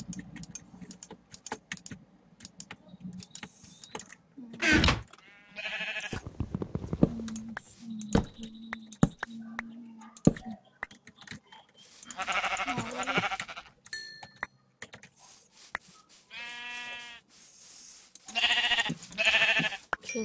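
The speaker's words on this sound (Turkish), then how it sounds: "Kesin koyunlardır" Sheep in a video game bleat several times in short bursts, spread among frequent clicks of keyboard typing and other sparse game noises.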